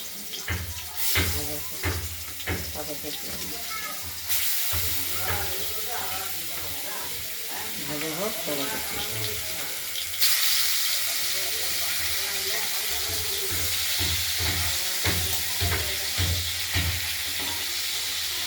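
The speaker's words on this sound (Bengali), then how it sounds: "এই রুই মাছের সঙ্গে রুই মাছগুলো আগে প্রথমে ভেজে নিই।" Rohu fish pieces frying in hot oil, a loud steady sizzle and hiss with bursts of spitting, joined by intermittent clatter and a voice talking over it.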